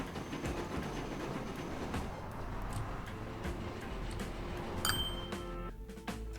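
Trains running on rails in the simulation game Train Fever, a steady dense rumble with faint metallic clinks and a brief sharper clatter near the end, continuous and fairly close, with no talking.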